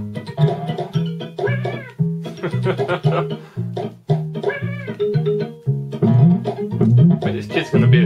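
Cartoonish cat meows repeat over and over in the Dennis the Menace Super Nintendo game. Loud, tonal yowls with a bouncy rhythm fill the clip, over steady game music.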